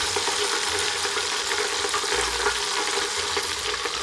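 Chicken wings deep-frying in oil inside a clear glass cooking pot give a steady, loud, bubbling sizzle that fills the whole stretch without letup.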